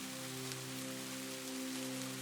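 Steady rain falls in the woods as a continuous, even hiss with soft patter, accompanied by a low sustained tonal drone and no voices.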